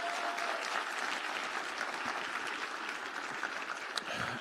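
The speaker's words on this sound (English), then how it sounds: "let's give a round of applause for them." Audience applause at the closing of a hacker security conference, honoring the event organizers: steady, dense clapping from a large crowd sustained throughout without letup.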